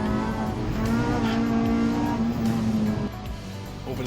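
A race car at a Scottish circuit season finale accelerates hard through a corner, its engine note loud and sustained with throttle swells, then dropping away as it passes.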